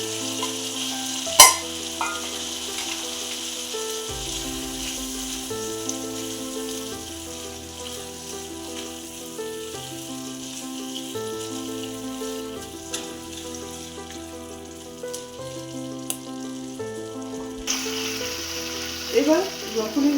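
Potato and carrot pieces frying in a pan for a winter vegetable curry, a steady close sizzle with occasional stirring clatter, while soft music plays underneath throughout.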